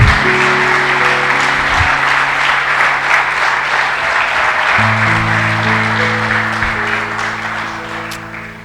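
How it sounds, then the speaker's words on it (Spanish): Sustained applause from a church congregation, steady and loud throughout with a sustained tone underneath, fading slightly at the end. "Dale un aplauso al Señor."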